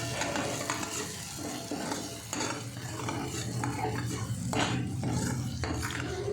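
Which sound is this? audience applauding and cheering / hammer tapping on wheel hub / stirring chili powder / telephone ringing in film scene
stirring chili powder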